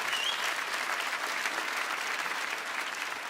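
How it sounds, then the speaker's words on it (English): Audience applause fills Durham Cathedral during a live concert, a dense, steady wash of many hands clapping that holds at an even level from start to finish with no pauses. "Here's a round of applause,"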